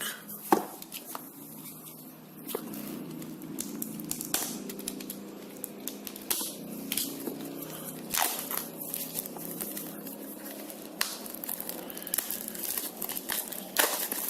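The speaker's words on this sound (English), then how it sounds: "Let's open this plastic." Plastic packaging being torn and crinkled open around a Beelink GT1 4K TV box, a run of close, crisp crackles and rustles with occasional sharper rips, no one talking.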